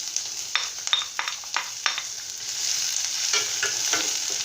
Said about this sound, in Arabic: درت في كاسرونه درت فيها شويه ديال الزيت، غادي ندير البصله ديالي